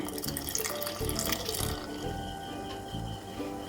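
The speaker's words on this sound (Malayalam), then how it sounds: "നമ്മൾ ഇതിൻ്റെ ജ്യൂസ് ഇതിലേക്ക് ഒഴിച്ചു കൊടുക്കുകയാണ്" Neem leaf juice poured into melted soap base for homemade ayurvedic soap, a steady close trickle of liquid that runs continuously and fairly softly, with no talking.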